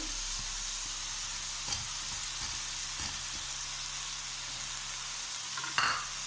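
Mixed vegetables with cabbage, carrots and peas frying in a pan for a vegetable curry give a steady, close sizzle, with a few soft stirring knocks and a brief louder clatter near the end.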